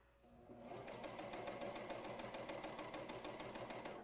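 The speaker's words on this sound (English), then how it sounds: "Coverhem machine, sew with confidence." A coverhem machine runs in a fast, even mechanical stitching rhythm that starts after a brief pause and keeps going steadily, close and clear, with no talking over it.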